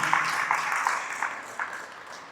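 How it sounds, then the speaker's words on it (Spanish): Church congregation clapping in praise during a Spanish-language sermon, a short burst of applause with a loose rhythmic pulse of claps, moderately distant. "Ahora sí quisiera que le dieran un buen aplauso al Señor con todo su corazón"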